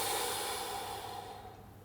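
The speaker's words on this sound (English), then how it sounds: "As I breathe air out, I'm skinny." A singer breathes out deeply in one long, steady exhale that gradually softens, close and breathy with no speech.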